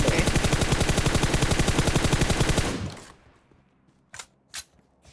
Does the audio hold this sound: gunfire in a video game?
yes